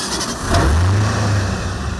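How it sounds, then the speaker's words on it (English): Sheriff's deputies' vehicle engines revving as they head out on flood rescues after heavy rain, a close, loud rev swelling in the middle and then settling to a steady rumble. "Revving their engines,"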